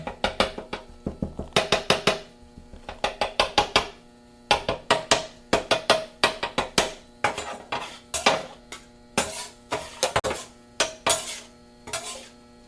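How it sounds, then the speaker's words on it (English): Cooked taco meat being chopped fine in a pan with a utensil, giving repeated sharp metallic scrapes and clacks in quick bursts with short pauses, close and fairly loud, no talking. "I want to chop it up fine."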